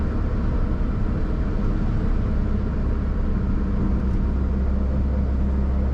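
A Datsun 1200 Sunny truck's engine drones steadily while running on cruise control below top gear, labouring with a continuous low rumble heard from inside the cab, with no talk.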